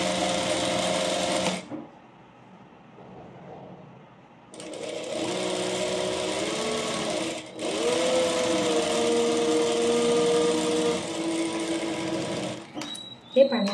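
A sewing machine stitches a pleated petticoat at a tailoring class, running in steady close whirring stretches broken by a short pause, with a voice talking over much of it.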